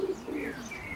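Racing pigeon cocks coo softly in a widowhood loft section holding nineteen birds, a low continuous murmur of overlapping coos close by, with no talk.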